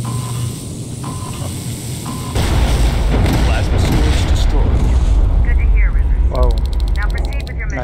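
A large explosion in the video game Terminator Resistance bursts in with a loud, sustained roar and rumble, with mechanical noise and a voice mixed into the din.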